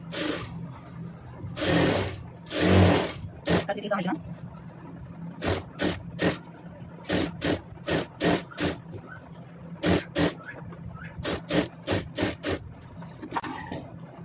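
Sewing machine stitching a blouse in short, regular bursts of rapid needle clatter, alternating with someone talking in Tamil early on.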